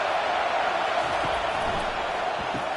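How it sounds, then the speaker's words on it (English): Stadium crowd at a football game on third down, a dense, continuous roar that holds steady at moderate loudness throughout. "Decibels rising as the crowd gets behind this defense on third down"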